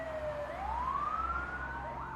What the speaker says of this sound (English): they shut the ambulance doors and sped off with the sirens blaring